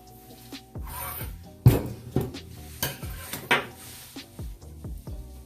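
A spoon or spatula works through thick sour cream pound cake batter in a bowl, giving close, uneven scrapes and clinks against the dish at an irregular pace, with no talking.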